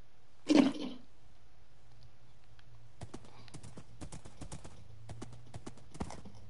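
Horse hooves clopping in Minecraft, a burst of steps near the start followed by sparse, faint footfalls spread over the rest of the moment, with no talk.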